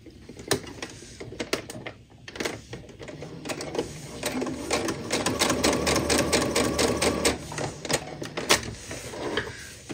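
A sewing machine stitches together pieces of fabric for a small Christmas ornament coaster, running in steady rapid bursts with brief pauses, close and moderately loud throughout.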